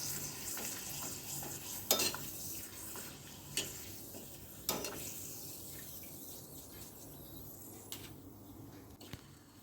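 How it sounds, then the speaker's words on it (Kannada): Raw banana sendige frying in a little oil while being stirred with a tempering ladle, a low steady sizzle broken by a few sharp scrapes and clinks of the ladle against the pan, with no talking. "ಹೀಗೆ ಒಗ್ಗರಣೆ ಸೌಟಲ್ಲಿ ಹುರಿತಾ ಇದ್ದೇನೆ."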